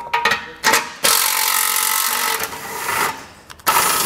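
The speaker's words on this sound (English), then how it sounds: "we're gonna have two 15 millimeter head bolts. So go ahead and get these removed." A power tool runs in long, loud, steady stretches with brief stops, backing out 15 mm head bolts from the bumper beam of a 2022 Chevrolet during a base plate install.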